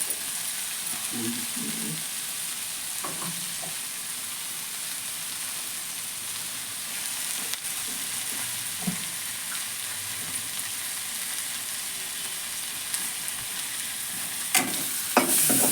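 Broad beans fry in a pan with a continuous, even sizzle close by, with a few faint clicks and stirring knocks on top.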